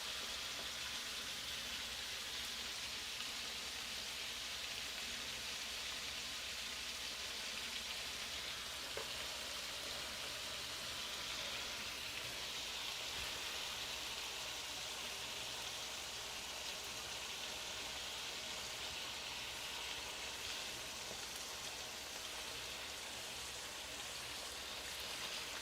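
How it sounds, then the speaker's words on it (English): Beef sizzles steadily in a hot pan for a stir fry, a dense, even hiss that stays loud and unbroken throughout. "Got that sizzle."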